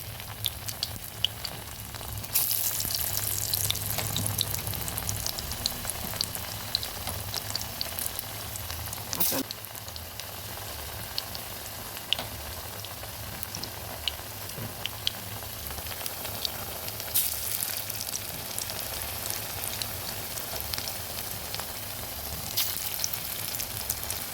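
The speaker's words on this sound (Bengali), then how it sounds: "এবার এক এক করে বড়াগুলো দিয়ে দেবো খুব একটা হাই ফ্লেম দেবো না মিডিয়াম ফ্লেমে ভেজে নেবো" Taro leaf fritters frying in oil over a medium flame, a steady close crackling sizzle that runs throughout with occasional louder pops and a brief utensil clink.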